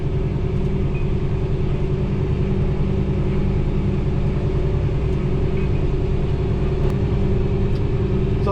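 Fendt 1050 tractor running during evening cornstalk tillage, heard from inside the cab as a steady, smooth low engine drone and rumble that holds constant throughout with no talk.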